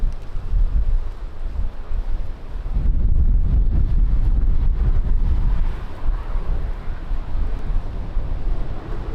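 Strong wind buffets the microphone at Lisbon Airport, with loud, gusty low rumbling that surges and eases throughout and no other clear sound.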